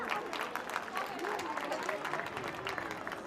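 Audience applause at a school function, a moderate burst of crowd clapping with voices talking through it throughout.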